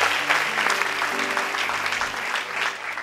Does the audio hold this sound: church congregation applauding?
yes